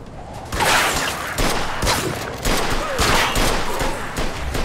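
Rapid bursts of gunfire in Mafia 2 Definitive Edition during a police shootout, loud close volleys repeating in clusters with brief gaps between them.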